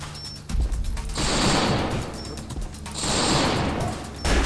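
SCAR-L rifle fire in a video game on the Staccato map, heard as sustained, loud bursts of rapid automatic shots that roll into each other, with brief pauses between strings.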